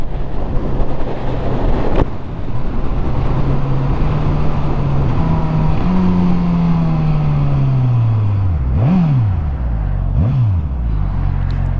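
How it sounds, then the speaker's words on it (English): A 2021 Suzuki GSX-S1000 motorcycle engine rising in pitch through the gears, then two quick downshifts with revs blipping up and falling, all under heavy wind rush on the move. "See if we get any downshift pops on that flipper"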